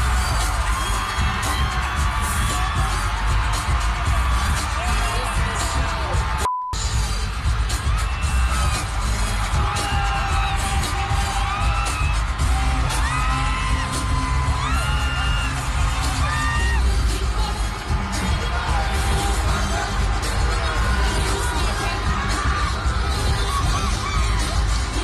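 A large concert crowd cheers and screams continuously as a group comes on stage at a singer's final tour show, a dense, loud roar of whoops and shouts with a brief dropout partway through.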